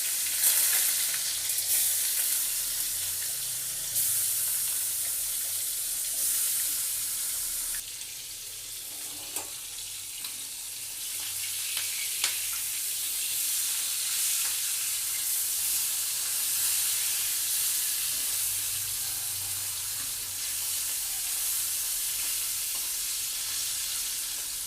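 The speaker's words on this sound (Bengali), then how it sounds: "আমি মাছে নুন হলুদ মাখিয়ে তেলে ছেড়ে দিচ্ছি।" Fish rubbed with salt and turmeric frying in hot oil for a Bengali fish curry with brinjal, giving a steady, loud, close sizzle and crackle that runs unbroken throughout with no voices.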